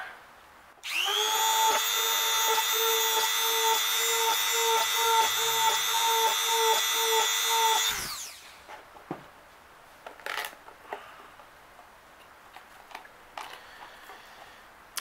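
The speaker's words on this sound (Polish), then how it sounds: "Przecieramy i wiercimy." Sanding and drilling a Ferrero chocolate box for a terrarium: a loud, steady high drill whine runs for about seven seconds, then stops. Scattered scraping and tapping follow.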